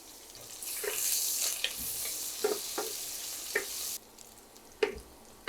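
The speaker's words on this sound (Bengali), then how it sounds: "পেঁয়াজগুলা কিছুটা ভেজে নিয়েছি অনেক বেশি ভাজতে হবে না" Onions and garlic fry in oil for a mixed winter vegetable dish, a bright close sizzle with a few utensil taps that drops suddenly to a quieter hiss partway through.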